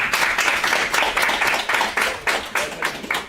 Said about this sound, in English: Everyone can give a round of applause.